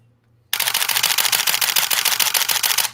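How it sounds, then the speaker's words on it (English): A rapid burst of loud camera shutter clicks from a chunky-sounding film camera fires continuously for about two and a half seconds, close and alone with no talk. "I missed that big chunky shutter"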